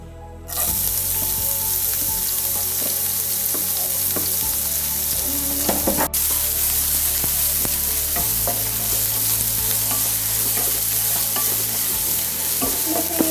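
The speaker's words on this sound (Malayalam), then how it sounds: "ഇനി ഇതിലേക്ക് ചോപ്പ് ചെയ്ത് വെച്ച സവാള ചേർത്ത് കൊടുക്കുക" Chopped onions hit hot oil in a pan and sizzle loudly and continuously, with the scrape and clatter of a spoon stirring them close by.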